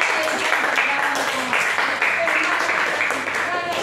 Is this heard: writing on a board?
no